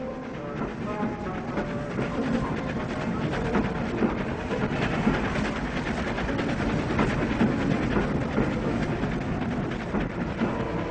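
Steam locomotive 4472 pulls a train, rumbling steadily along at a moderate distance, with a continuous mechanical roar and faint rhythmic clatter of wheels on track.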